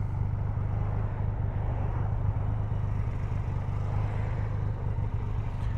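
A Triumph Rocket 3 motorcycle engine rumbles at a low, steady drone while riding, a constant deep growl with broadband road and wind noise and no speech.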